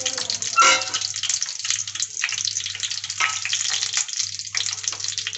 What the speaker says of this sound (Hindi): लेकिन तेल में थोड़ा सा पानी चला गया तो इसलिए वो तड़क रहा है